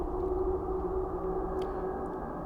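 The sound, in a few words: Divine Beast Vah Rudania sound, Zelda Breath of the Wild video game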